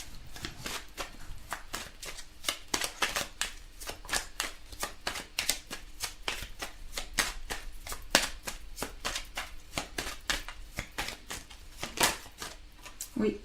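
Tarot cards shuffled by hand for a reading, a steady run of crisp riffling snaps repeating evenly and close, with a voice faintly present underneath.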